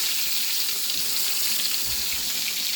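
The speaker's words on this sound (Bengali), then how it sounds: "গরম গরম বেগুন ভাজছি" Eggplant slices frying in mustard oil in a wok, a steady, close, even sizzle with no pauses and no voices.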